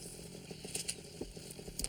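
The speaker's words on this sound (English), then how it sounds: "Hey, Chris, better keep an eye on that lawnmower." A runaway lawnmower engine buzzes steadily nearby with a rough, revving drone and faint rattles.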